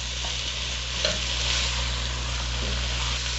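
Potato cubes fry in masala over a high flame, a steady close sizzle with occasional soft stirring scrapes, no voices.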